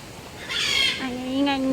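Parrots at an outdoor parrot park give a loud, bright squawk, followed by rising harmonic calls, fairly close and standing out over the background noise.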